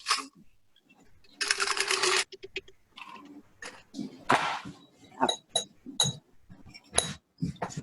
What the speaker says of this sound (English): I'm going to pour over my fine strainer into the glass